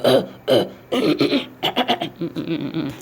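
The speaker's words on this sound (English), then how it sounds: "you don't want to be clearing your throat anyhow" A person clears their throat several times in short, rough bursts, close up, with brief pauses between.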